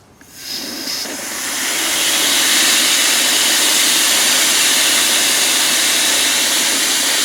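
Tank emptying through an open port with no nozzle fitted, giving a loud, steady rushing hiss like escaping steam or air. It starts softly, swells within the first two seconds and then holds constant until the end, with no talking.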